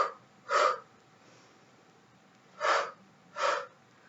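Three separate breaths during a Pilates workout, each a short, clear rush of air, spaced out with quiet in between.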